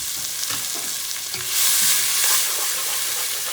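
Minced garlic sizzles steadily in a hot pan for a stew of beef short ribs, a continuous close frying hiss that swells briefly louder midway, with no talking.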